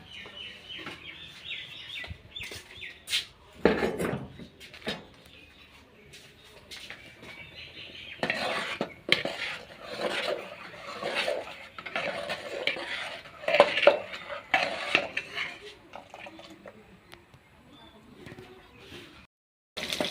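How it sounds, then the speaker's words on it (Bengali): A pot of rice being stirred at home, the spoon scraping and clinking against the pot in repeated bursts, with birdsong or a rooster nearby and a few voices talking in the background. "এই যে দেখো ভাত ঘাটি দিচ্ছে একদম"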